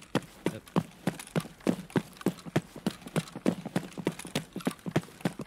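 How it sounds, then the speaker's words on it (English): Quick running footsteps during an Escape from Tarkov Labs raid, a steady rhythm of close, sharp thuds from one set of feet with nothing else around them. "I only heard one set of footsteps."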